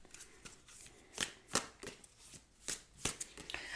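Tarot cards being shuffled by hand to draw one more card, a run of crisp riffling bursts and soft flicks spaced irregularly, close and fairly quiet, with no talking.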